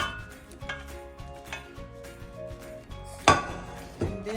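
Cooked potatoes and carrots going back into a pot of oxtail stew, with metal-on-pot clinks and clattering scrapes, one sharp bright clank standing out near the end, close up with no talking.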